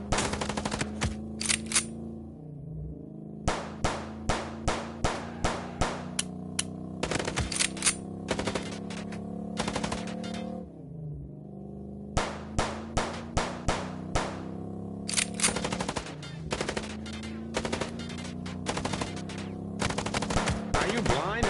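Rapid automatic gunfire in bursts during a car chase in the video game Chicken Police, loud and close, with long rattling volleys broken by short pauses over a steady engine drone.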